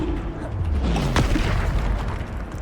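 A Bombarda spell blast in the video game Hogwarts Legacy, a deep rumbling boom with a swooping whoosh, set within a loud, busy combat din.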